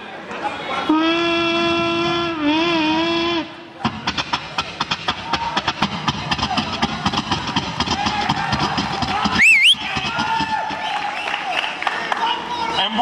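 A child vocally imitates a moving train, first with a sustained hooting whistle-like tone, then a rapid rhythmic chugging that runs steadily to the end, broken by a brief rising squeal.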